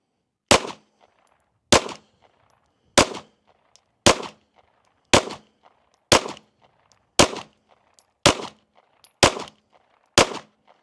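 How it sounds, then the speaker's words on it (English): An EAA Girsan MC9 Disruptor pistol fires ten rounds of 115-grain ammunition, loud sharp shots spaced about a second apart in an even, deliberate rhythm, each followed by a short echo. "this time we got 10 rounds of 115 grain arms core loaded up. Let's shoot a group at the top left."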